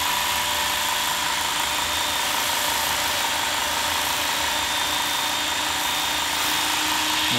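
A Ken Onion Work Sharp belt sharpener runs steadily with a lighter-grit belt, polishing and cambering a chisel bevel, giving a continuous whirring motor hum and belt hiss for the whole stretch without a break.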